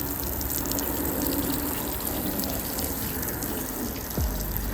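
Steady rush of water from a hose flooding a ceramic-coated car panel during detailing, a continuous close gushing spray with no talk over it.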